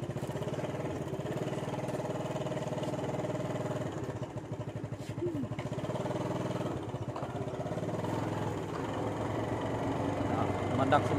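A four-wheeled ATV motorbike engine runs at a low, pulsing idle, a steady mid-pitched drone that dips briefly and then picks up again near the end, with people talking over it.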